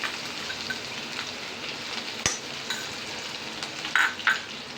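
Crushed garlic, ginger and cumin fry in a pan, giving a soft continuous sizzle with a sharp utensil tap and a few clinks and scrapes as they are stirred.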